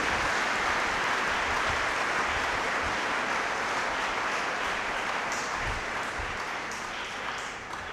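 Congregation applauding during a Pentecost Sunday Mass at St. Francis Parish, Kot Lakhpat, Lahore: sustained, even clapping from many hands filling the church, tapering off gently near the end.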